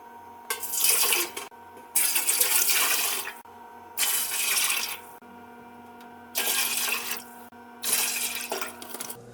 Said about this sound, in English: So I put in 18 cups of water.